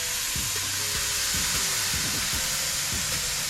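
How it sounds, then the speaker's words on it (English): Loud, continuous sizzling of skirt steak on a hot Char-Griller Gravity 980 grill, a dense crackling hiss with occasional pops, close up and without any talking. "Hear that sizzle?"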